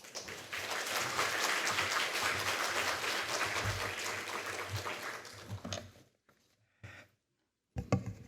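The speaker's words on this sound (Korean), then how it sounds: "나오실 때 큰 박수로 환영해 주시기 바랍니다." A church congregation at a Sunday afternoon 50th-anniversary service applauds to welcome the preacher, with dense clapping that fades out after about six seconds, followed by a few brief scattered sounds.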